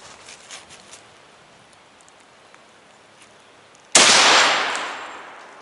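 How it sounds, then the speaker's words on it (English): A silver-tip armor-piercing incendiary rifle round fired at a 2-inch steel plate: quiet outdoor background, then one sudden loud, sharp report with a bright crack that decays over about a second and a half. "So we're going to try a silver tip,"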